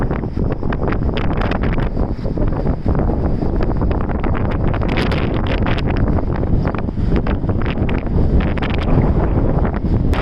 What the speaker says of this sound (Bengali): প্রচুর বাতাস, অনেক বড় বড় ঢেউ।